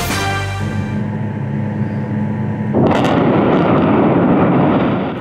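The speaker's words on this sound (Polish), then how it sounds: "tyle trwało wyburzenie 90-metrowej chłodni kominowej w elektrowni Łagisza w Będzinie" A 90-metre cooling tower at the Łagisza power plant in Będzin is brought down by explosive demolition. A steady rumble gives way to a sudden loud blast near the three-second mark, and a broad roaring collapse continues to the end.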